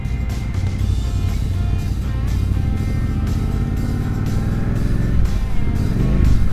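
A Yamaha Tenere motorcycle accelerates through its gears, the engine note loud and close, climbing steadily in pitch with a droning roar throughout.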